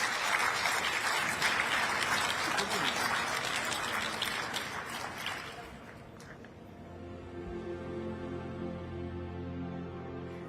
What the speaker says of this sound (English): please do give our wonderful panellists a big round of applause